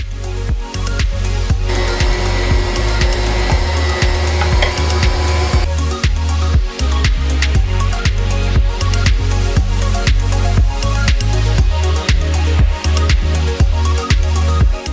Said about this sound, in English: And now I'm grinding them through a 5mm plate.